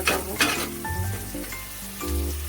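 Turmeric, chilli and spice powders sizzle steadily in hot oil in a pan for a rohu fish-head and bottle gourd curry, a close continuous frying hiss with faint utensil clinks.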